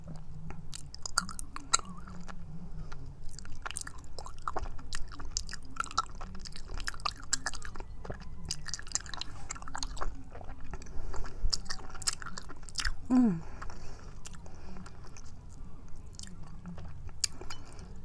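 Close, quiet mouth sounds of raw honeycomb with wax being chewed: sticky, wet squelches and soft crunches, continuous and irregular, with faint birdsong in the background.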